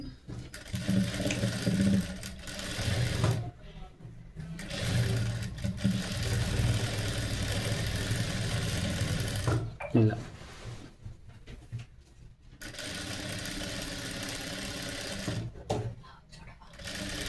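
A sewing machine stitches a princess-cut blouse in whirring bursts separated by short pauses, close up, while someone talks over and between the runs.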